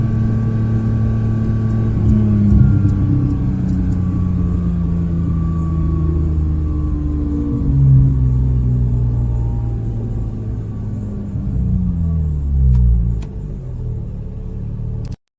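A Porsche GT3 laps the Val de Vienne circuit, its engine note rising and falling through gear changes in a continuous loud rumble, with pitch sweeps as it accelerates and brakes through corners.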